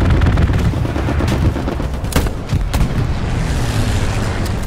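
Gunshots ring out in a tank video game, several sharp loud reports and cracks over a heavy rumbling backdrop, close and punchy across the clip.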